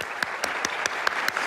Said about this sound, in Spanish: Recibió al principio una merecida y larga ovación de pie